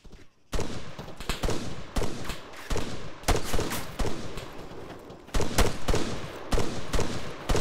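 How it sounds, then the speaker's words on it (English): Gunfire in the video game Arma Task Force 88 comes as repeated sharp shots and short bursts in an irregular rhythm, loud and close, with a few brief gaps. "We're taking fire now."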